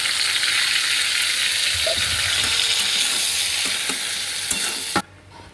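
Ground spice paste sizzles loudly with fried potatoes in a pan, a dense steady hiss with a few scraping stirs before the sizzle drops sharply near the end.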